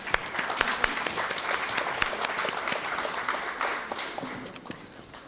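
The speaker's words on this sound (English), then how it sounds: "Let's all come together to applaud our finalists in the 11 to 12 age category" An audience at a speech competition finals applauds the 11 to 12 age category finalists, a steady wash of many hands clapping that holds for several seconds and then eases slightly, with no talk over it.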